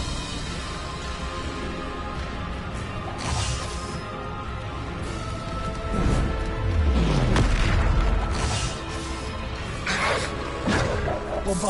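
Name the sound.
Bombarda spell explosion in a Hogwarts Legacy video game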